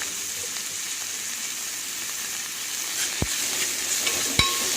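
Onions frying in oil with fennel are stirred in a pan, a steady close sizzle broken by a couple of sharp spatula knocks near the end, with no voices.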